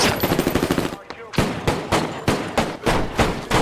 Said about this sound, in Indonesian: Dari sana baku tembak pun kembali terjadi